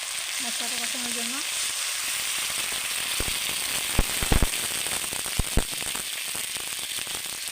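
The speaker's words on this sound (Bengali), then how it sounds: "অল্প একটু পানি দিয়ে দেবো মশলাটা কষানোর জন্য।" Ground spice masala with ginger, garlic paste, cardamom and cinnamon frying in a kadai with a splash of water, a constant loud sizzle broken by several sharp spatula clacks and scrapes in the second half.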